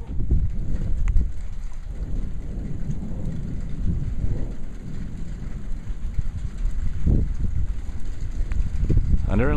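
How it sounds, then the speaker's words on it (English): Rain and a thunderstorm outside at home, with low rolling rumbles and steady wash of rain buffeted by wind noise on the microphone, continuous and fairly loud, with a few faint voice-like bursts. "Here comes the rain."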